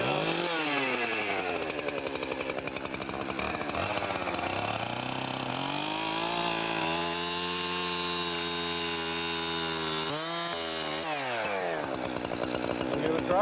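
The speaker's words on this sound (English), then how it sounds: "Then see if the chainsaw will start." A chainsaw roars steadily while cutting through a log for woodworking, its engine pitch dipping and rising under load with one brief drop near the end, loud and close throughout.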